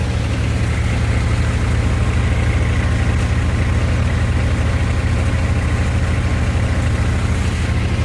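A tractor engine idles steadily, driving a Param thresher, a low drone without a break, its even mechanical rumble close and loud throughout, with no voices.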